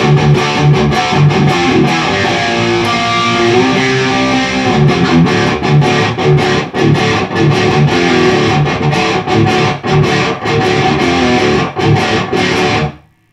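An electric guitar played through a Joyo Dark Flame distortion pedal with heavy gain, loud tight chugging riffs with rapid palm-muted stabs and a sustained saturated tone, ending abruptly in silence.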